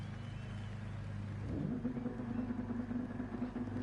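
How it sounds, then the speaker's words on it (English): Race cars in the Gran Turismo video game drone steadily at idle, then the revving swells slightly and holds at a moderate, continuous level. "Listen to them revving the cars out, trying to burn their fuel, looking for any advantage at all"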